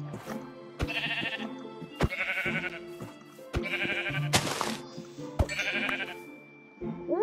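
Sheep in the Minecraft video game bleat loudly and close in a repeated series of about five wavering calls, separated by short thuds and clicks.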